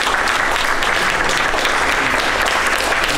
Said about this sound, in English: let's give all our guests again a big applause.